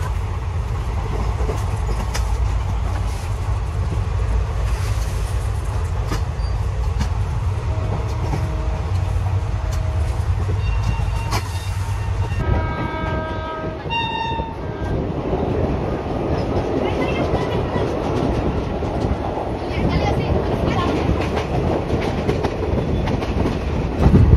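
Ganadevta Express rolling toward Azimganj, heard from inside a sleeper class coach: a loud, steady low rumble of wheels and carriage that runs the whole way, with a shift in tone partway through and faint tonal bursts.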